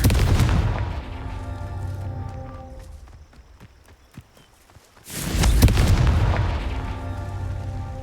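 Confringo blasting spell in the Hogwarts Legacy video game during a Merlin Trial, two heavy booming explosions, one at the start and one mid-clip, with crackling debris and rumble trailing off between them.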